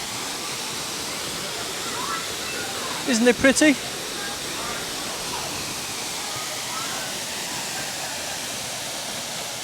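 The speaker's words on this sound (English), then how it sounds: "Here we are at the waterfall." A steady, broad rush of falling water fills the scene, a waterfall close by in St. Lucia, while a voice speaks briefly over it.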